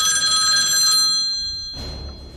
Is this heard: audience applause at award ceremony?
no